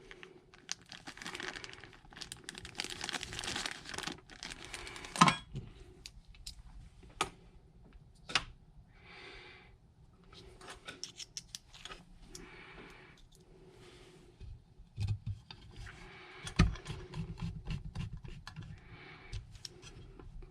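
Small screws being driven by hand to fit a rail set onto an airsoft DC-17 blaster: quiet, irregular clicks, ticks and plastic rustling with pauses between, close and faint, no talk.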